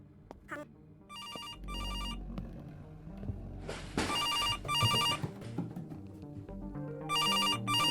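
A telephone rings in a video game, repeated bursts of a bright electronic trill separated by short gaps, loud and close, with quieter background sounds between the rings.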